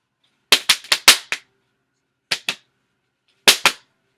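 A leather belt is snapped taut several times, loud, sharp cracks close by in quick clusters of five, then two, then two, with silence between and no voices.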